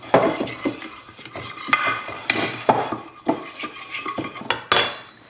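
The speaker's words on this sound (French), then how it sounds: "On mélange cette petite marinade." A spoon stirs a ginger marinade in a bowl, clinking and scraping against the sides in a quick irregular rhythm, close and fairly loud, with no talking.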